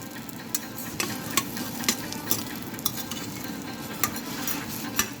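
A cheese omelette sizzles and fries steadily in a pan, a close, continuous crackle broken by regular light scrapes and taps of a utensil against the pan.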